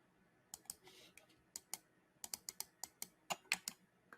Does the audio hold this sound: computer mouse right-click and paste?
yes